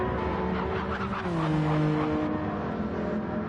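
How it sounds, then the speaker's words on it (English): Race cars in Gran Turismo 7 during an endurance race at Daytona, engines droning in overlapping pitches with tires skittering and squealing, a dense continuous roar that swells slightly midway. "You can hear the cars skittering around."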